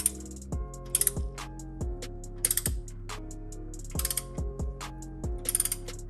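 Ratchet wrench snugging an oil drain plug during a car oil change, a series of quick metallic clicking bursts in short strokes with brief pauses between, close and clear, no talking.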